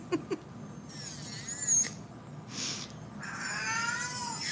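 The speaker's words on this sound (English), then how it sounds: "oh no, the kitty's screaming." A cat meows and caterwauls loudly in a series of drawn-out, rising cries, with a couple of short sharp calls at the start, heard close by in a quiet room at night.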